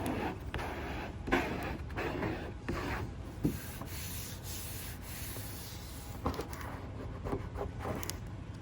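A hand or squeegee rubs steadily across freshly applied racing stripe vinyl on a car to push out bubbles, making continuous close scraping and rubbing strokes with a few louder swipes and no talking.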